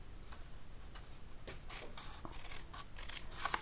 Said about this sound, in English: cut away the small rectangle in the corner